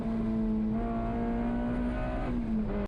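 Race car at Road America taking turn 1 at about 160 mph after hard braking, its engine a loud, steady in-car drone with a sustained high tone that dips slightly, heard alone.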